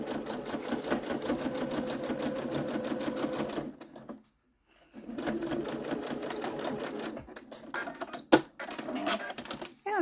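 A domestic sewing machine runs top stitching at a 3 millimeter stitch length, a fast steady mechanical whir that stops briefly and restarts, close and clear, with a sharp click partway through.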